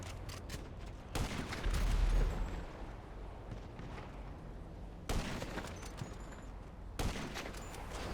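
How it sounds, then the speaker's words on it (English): Gunfire rattles through a hard solo mission in GTA 5 Online, a dense, continuous barrage of shots and blasts with sharp, louder bursts breaking in at intervals. "So after about 40 seconds of shooting"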